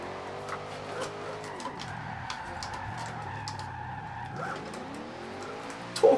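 A drifting car in the Forza Horizon 2 racing game holds a steady engine drone while tyres squeal through a long slide, with the engine note rising and falling and a sharper burst at the end.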